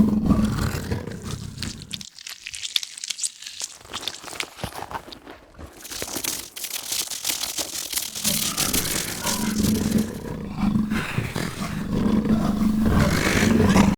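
Rough leopard roars and growls, blended with other sounds in Krotos Reformer Pro, sound over a dense, layered bed of noise, with a brief drop-out partway before the rumbling returns loud.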